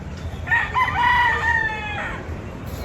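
A Jerry Jenkins sweater gamefowl rooster on a Tagaytay farm gives a single full crow, clear and fairly close, rising and trailing off over about two seconds against light outdoor background noise.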